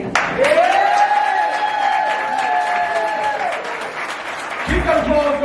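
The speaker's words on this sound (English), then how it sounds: "Keep that applause going, keep that applause going for Kel!" Slam audience applauding a poet, a steady wash of clapping and cheering with a voice calling over it, ending in a brief louder burst.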